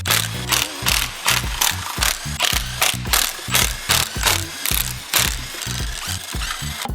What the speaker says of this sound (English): I can then start undoing all of the bolts for the front cover.